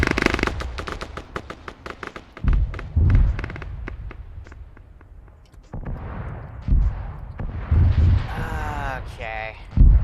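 Distant gunfire in a military video game set on Malden, with bursts of thumps and cracks spread across the clip and voices talking over them.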